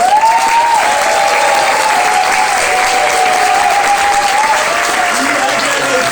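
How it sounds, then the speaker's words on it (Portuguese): A theatre audience gives loud, sustained applause after a professional stage performance, dense clapping filling the room while a voice talks over it throughout. "uma salva de palmas a essa equipe incrível que trouxe esse espetáculo lindo"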